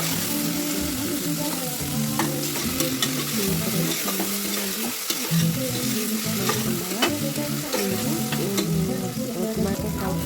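Bay leaves and long-sliced tomatoes fry in a pan for prawn chatli biryani, giving a steady, close sizzle broken by repeated stirring scrapes, with soft tonal music running underneath.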